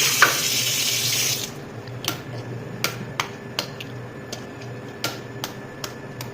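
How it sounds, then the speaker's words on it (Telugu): Water pours from a tap in a strong rushing stream for about a second and a half, then stops, leaving a series of sharp drips and small ticks at irregular intervals. "వాటర్ పోస్తా"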